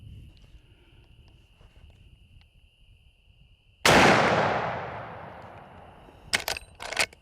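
A single loud rifle shot from a Henry X Model side gate lever-action in 45-70, fired at night: a sharp blast with a long decaying rumble, then a few faint clicks, over quiet crickets and a steady insect whine.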